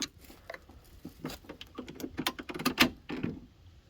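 A Volkswagen Golf MK4 GTI door handle is worked on a car with a newly replaced door lock module, producing a quick run of close plastic clicks, clacks and rattles that peak near the end.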